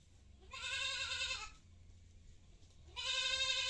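Two loud, close goat bleats, each about a second long with a strained, wavering tone, separated by a quiet pause, heard near fish ponds with dry grass on the embankments.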